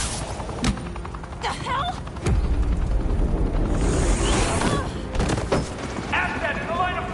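Gunfire rattles in a Batman video game: bursts of shots and heavy booming blasts over a continuous loud action soundscape, with voices shouting in between.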